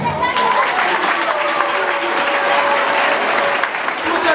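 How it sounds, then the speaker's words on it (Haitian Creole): An audience at a tribute event in Gonaïves applauds a student, steady clapping from a crowd that holds evenly throughout, with a faint voice underneath. "Nous prenons un bravo pour Jean-Robert Sylus."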